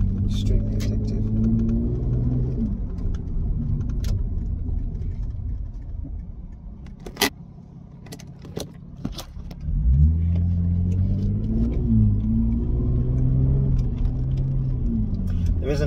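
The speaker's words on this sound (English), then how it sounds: "Oh, just rev matching in this. That 2J noise." A Lexus IS300 with a 2JZ inline-six engine revs during a rev-matched downshift, heard from inside the car as a steady engine drone that drops away, then rises in pitch with a blip-and-climb of revs. Talk runs over it.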